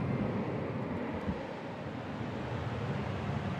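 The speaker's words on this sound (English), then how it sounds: "this is the just noise, comb filter noise" Comb filter noise patch on a hardware synthesizer, a steady dense hiss-like roar with a low rumbling body, loud and continuous throughout with no speech.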